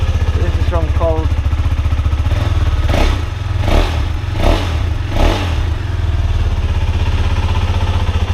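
A KTM RC390 with the catalytic converter and silencer removed and a full exhaust fitted idles loudly after a cold start, a deep steady thrum broken by several sharp blips of the throttle midway through, close by.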